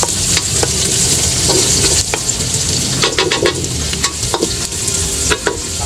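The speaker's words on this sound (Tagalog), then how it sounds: "lagyan na po agad natin yung bawang" Garlic fries for ginisang monggo, a loud, dense sizzle of oil that runs throughout, with occasional clicks and scrapes of a spoon against the pan and no talking.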